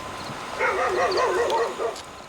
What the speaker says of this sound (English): He started barking, and that's kicked off the other dogs down the road.